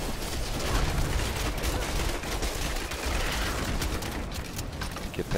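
Rapid turret gunfire in Diablo 3 Reaper of Souls, a dense, continuous loud barrage of overlapping shots and impacts with no pause.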